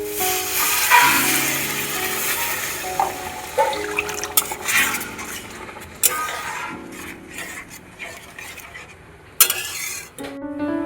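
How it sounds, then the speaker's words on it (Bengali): Water is poured into a pan of well-fried spice masala for a pabda fish curry, giving an uneven, close-up splashing and sizzling wash with a few sharp clatters of utensils and no talk. "মশলা ভালো করে কষানো হয়ে গেছে, এবারে দিয়ে দেবো পরিমাণ মতো জল।"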